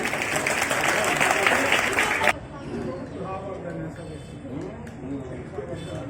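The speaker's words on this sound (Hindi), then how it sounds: "जोर से तालियां नहीं बज रही भाई" A school audience at a district-level science event gives loud, dense applause that cuts off abruptly after a couple of seconds, leaving a murmur of voices and crowd chatter in a large space.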